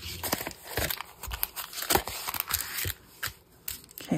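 Scissors rough-trimming paper for a tabbed wraparound envelope pocket, a rapid series of close, crisp snips and slicing crunches with faint paper crinkle, no speech.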